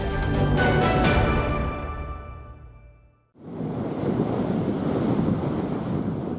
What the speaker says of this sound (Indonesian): Tinggi ombak mencapai lebih dari 2 meter disertai angin.